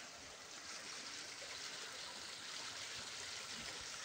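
Water flowing in a stream in Pasay, a steady, even rushing and trickling that carries on alone throughout without any change.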